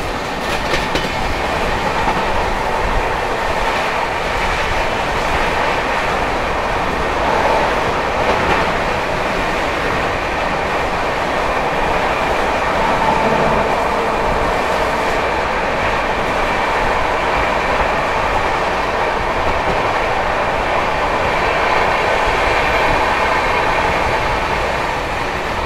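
The 20801 Magadh Express runs on the rails in a continuous loud rumble with rhythmic clickety-clack of the wheels over track joints, heard steadily from inside the moving train without any talking.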